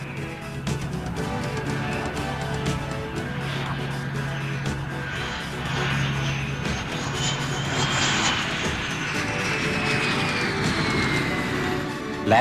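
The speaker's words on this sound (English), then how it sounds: "one of the test F-18s, all of which were identified by blue or red markings on the wingtips and nose section, was subjected to carrier landing and takeoff procedures" An F-18 Hornet jet performs carrier-style landing and takeoff tests at a land base, its engine roar loud and sustained throughout with a rising whine and a low steady rumble.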